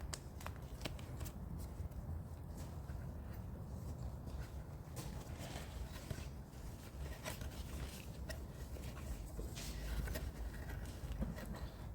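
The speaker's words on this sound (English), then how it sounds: "Kind of love how they're packaged. A bit like unwrapping a Christmas present." Packaged Brembo ceramic brake pads for a twin-turbo Supra brake upgrade are unwrapped, giving continuous close rustling and crinkling of packaging with scattered sharper crackles and no talk.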